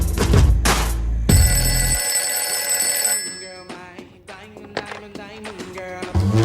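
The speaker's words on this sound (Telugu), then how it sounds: "daddy phone ring daddy" A telephone bell rings loudly in a home, a sustained metallic trill after a few thumps, followed by fainter tonal chimes and short bits of activity.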